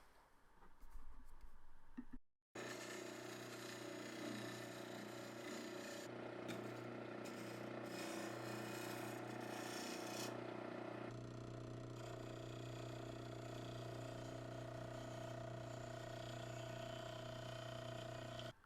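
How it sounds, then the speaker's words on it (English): A skew chisel turned on its side scrapes the surface of a spinning wooden Easter egg on a lathe, giving a steady, close scraping hiss over the lathe's motor hum after a brief pause near the start. "using the edge of the skew to scrape the egg surface"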